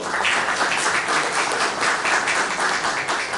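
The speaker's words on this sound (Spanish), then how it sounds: "Un fuerte aplauso, por favor." An audience gives a strong round of applause at a public event honouring a professor and author, a dense steady wash of many hands clapping, loud and sustained throughout with no voices over it.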